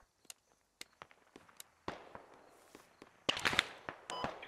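Heavy .50 calibre fire from a BTR armoured vehicle in the military shooter Squad, heard as scattered sharp distant cracks that build into a denser, louder cluster of impacts and bursts near the end.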